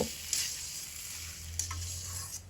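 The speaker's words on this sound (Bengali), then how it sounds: "এবার সিদ্ধ করা আলুটা দিয়ে দিচ্ছি দিয়ে ভালো করে মিশিয়ে রান্না করে নেব" Boiled potatoes sizzle faintly in a pan as they are stirred, with brief scraping and tapping sounds from a spoon at intervals over a steady low hiss.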